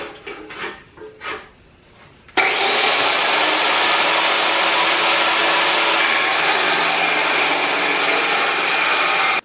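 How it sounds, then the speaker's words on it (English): An old chop saw slicing 45-degree pieces of metal from a helium tank: after a few quiet knocks, a loud, steady, broadband cutting roar starts abruptly and runs unbroken to the end, close and dominant. "I got my old ancient chop saw here."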